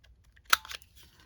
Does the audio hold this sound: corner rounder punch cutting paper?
yes